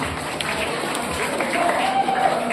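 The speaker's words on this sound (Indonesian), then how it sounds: "Tepuk tangan untuk Mbak Zahra dari dapat hadiah" Audience applauding a prize winner at an Isra Mi'raj commemoration gathering, a steady wash of many hands clapping throughout with speech faintly mixed in.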